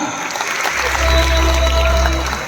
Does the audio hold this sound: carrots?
no